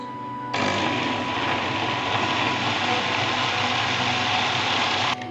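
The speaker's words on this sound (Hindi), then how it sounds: "एक दो मिनट ग्राइंड करने के बाद" Mixer grinder blending a banana chocolate milkshake with the lid on, a steady loud whirring motor drone that starts abruptly after a brief pause and runs evenly for several seconds before cutting off.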